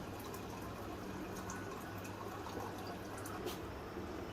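Mutton yakhni stock is poured into rice for pulao, a soft, continuous watery rush heard faintly and alone.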